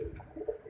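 Breeder pigeons in a coop give a brief low cooing call, soft and close, with no voices over it.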